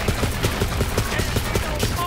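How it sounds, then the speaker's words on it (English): Rapid pistol fire from Moze in Borderlands 3, a steady fast rhythm of sharp, evenly spaced shots over roughly two seconds, close and loud against a busy combat background. "this pistol is definitely very effective"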